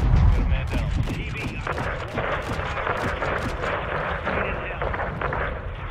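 Heavy explosion in Call of Duty Modern Warfare 2 booms up close, followed by rolling rumble, crackling gunfire and scattered blasts, with a voice speaking over the battle.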